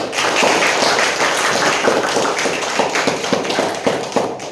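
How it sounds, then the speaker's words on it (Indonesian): A school class claps hands together after singing in a Pancasila lesson, loud close clapping with slightly rhythmic bursts and thumps carrying throughout. "Kita tepuk tangan."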